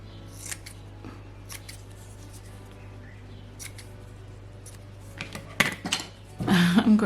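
Scissors snip paper for a junk-journal collage in a few scattered, close cuts, with a louder burst of cutting near the end over a low steady hum.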